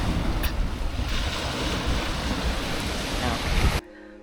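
Cool wind blowing at the seaside on a trip to Koh Larn, a steady loud rush of wind noise with surf-like washing, continuous and close to the microphone before cutting off abruptly near the end.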